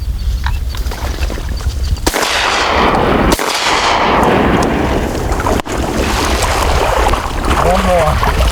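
Shotgun blasts during a public-land mallard duck hunt, with sharp reports around two, three and a half and five and a half seconds over steady wind and water noise outdoors.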